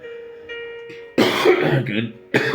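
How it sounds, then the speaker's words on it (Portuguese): A single throaty cough from a man recovering from flu bursts out after a quiet stretch with a faint tone, followed by a short rough clearing sound. "Perdão, irmãos, eu tossi aqui um pouquinho."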